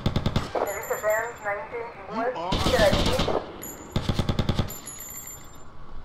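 Rapid bursts of automatic gunfire in GTA Vice City, clustered in sharp volleys at the start, middle and end, mixed with a voice speaking over the game audio.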